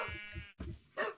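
Sheep bleating in the video game Minecraft, two or three short, close, nasal bleats in quick succession with no talking.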